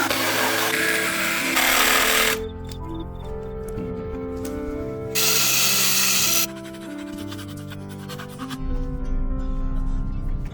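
Power tool carves a small hollow in wood for a birdhouse, loud bursts of grinding that start and stop in roughly two-second stretches over steady background music.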